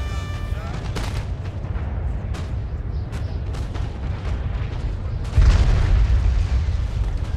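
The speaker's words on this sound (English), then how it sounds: "Let's see if we can get a full volley of a reloaded unit." Musket volley fire in the video game Napoleon Total War: scattered sharp shots crack throughout, then a loud booming massed volley erupts and rumbles on over continuous battle noise.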